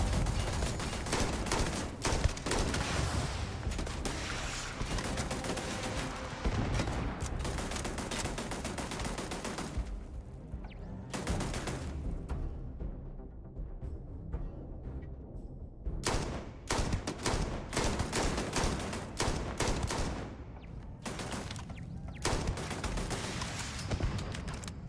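Sustained video game gunfire in Starfield, dense rapid bursts of shots rattling almost continuously with a few brief lulls, loud and close throughout.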